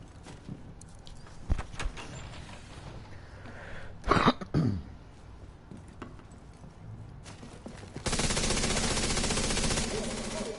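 A gun fires from the hip in Division 2 on PS4, with a short burst of shots midway followed later by a sustained loud rush of noise.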